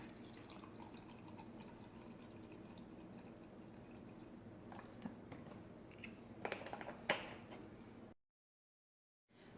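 Milk poured into a measuring cup for homemade buttermilk, a quiet liquid trickle with small drips and clinks, close and alone, ending in silence.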